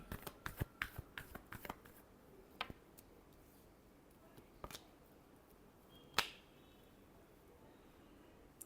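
Tarot cards are shuffled by hand in a final shuffle: a quick burst of crisp riffling flicks at first, then a few isolated card snaps and one sharper slap, with quiet stretches between.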